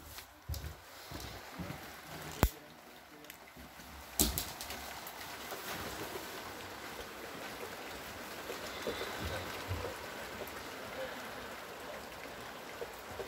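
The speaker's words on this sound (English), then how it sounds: "Let me show you guys the rain" Steady rain pours with a constant hiss, broken by a couple of sharp knocks early on and faint bird calls in the background.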